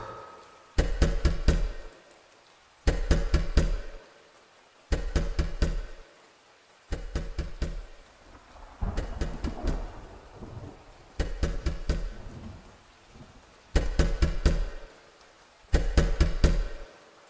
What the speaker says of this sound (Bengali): এমন সময় দরজায় ধাক্কা।